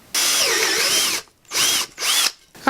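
A step drill bores out a center hole to 9/16 inch in a homebrew 20 meter vertical antenna part, one long steady whining run followed by two shorter bursts, loud and close with no talk.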